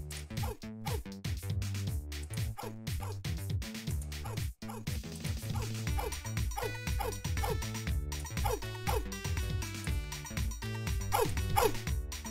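Cartoonish dog yips and barks from the video game Pet the Pup pop up amid busy, continuous game music that dominates the mix.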